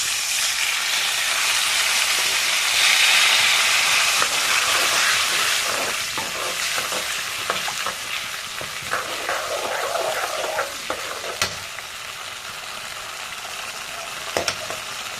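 Water for MTR puliyogare bubbles and sizzles in a hot pan, a loud continuous hiss with scattered pops and clinks of a utensil, nearby and without talk.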